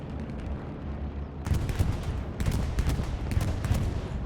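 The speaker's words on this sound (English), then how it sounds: "Oh, bombing run. Straight over the point. Takes out a few." Bombing run explosions in Hell Let Loose come as distant rumbling, then several loud blasts in quick succession. Each heavy detonation rolls and booms over continuous battlefield noise.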